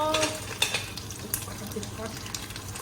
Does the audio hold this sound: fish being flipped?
yes